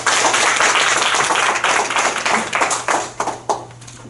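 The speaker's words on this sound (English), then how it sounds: "Let's give him a big round of applause." Audience clapping at a Rotary club meeting as an architect is welcomed to the stage, dense applause that thins into scattered individual claps toward the end, with no talking.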